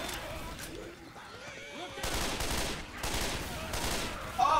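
Gunfire in the zombie shooter Left 4 Dead 2: quieter sporadic shots at first, then dense, loud bursts of rapid fire from about halfway through, with game ambience beneath.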